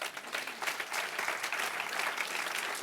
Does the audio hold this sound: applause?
yes